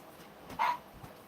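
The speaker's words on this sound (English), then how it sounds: "I'm going to have to shut the dog up." A single dog bark, short and moderately close, stands out over a quiet room background with faint noises around it.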